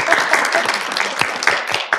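Applause from an audience at an evening talk event, steady dense hand clapping at moderate loudness, continuous across the whole span with no voices over it.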